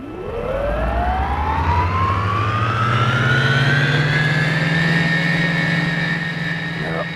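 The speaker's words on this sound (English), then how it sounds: "Switch on inverters" Spacecraft inverters in a sci-fi audio drama power up with a rising electronic whine that climbs in pitch and then settles into a loud, sustained tone, with a low hum underneath.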